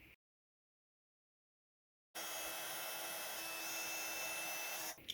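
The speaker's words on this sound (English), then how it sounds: "I'm going to heat emboss it to make it stand out a bit more" A heat tool blows hot air to melt opaque bright white superfine embossing powder on a card, a steady loud whooshing fan hiss that starts after a silent pause and runs unbroken to the end.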